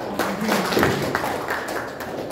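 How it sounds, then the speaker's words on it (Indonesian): Clapping from an audience at a hotel event in Makassar, a short, fairly loud burst of mixed hand claps and taps that fades slightly toward the end, with faint voices underneath. "Tepuk tangan dulu buat Bapak kita"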